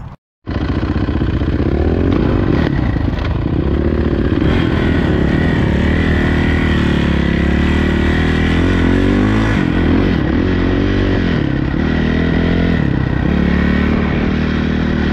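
Suzuki 450 dirt bike ridden on slippery ground, its engine loud and close, revving up and down continuously after a brief silent moment at the start, with no speech.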